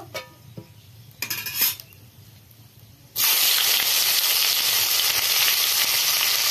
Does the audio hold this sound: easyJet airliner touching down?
no